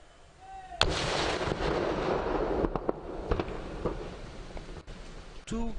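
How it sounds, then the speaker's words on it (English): A 2 kg vehicle-borne improvised explosive device detonating, a sharp loud blast followed by a long rumbling roar with scattered cracks and debris bangs. "the third one is 2 kilogram vehicle-borne IED or VBIED recovered in Selangor. Observe the impact of its explosion."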